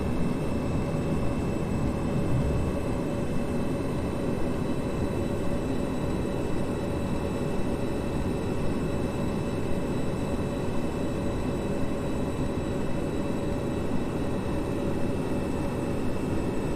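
Cabin of an airplane climbing after takeoff with flaps up, a loud, steady engine drone with a broad rumbling hiss and faint high whine, unchanging throughout with no talk.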